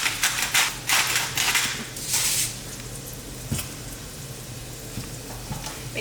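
Meat frying in a pan while a spatula scrapes and stirs it, crisp scraping strokes in the first seconds over a continuous close sizzle that carries on alone.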